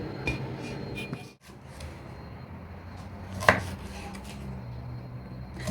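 Faint knife strokes finely chopping an onion on a cutting board, a few irregular chops with a louder clack midway, in a quiet kitchen.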